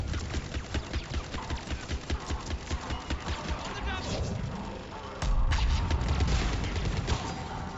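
Turret gunfire in the video game Mass Effect, rapid rhythmic bursts of shots pounding steadily, then a louder, denser barrage of fire and impacts in the second half, with game noise underneath.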